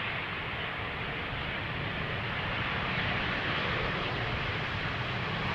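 An airliner roars in on approach to runway 18R at Amsterdam Schiphol, a steady, broad, loud jet rush with no variation in level, no voices over it.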